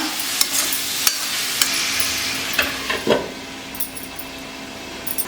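Pieces of ash gourd fry with a little salt in a pan, giving a steady close sizzle broken by regular taps and scrapes of a spatula, one louder clatter midway.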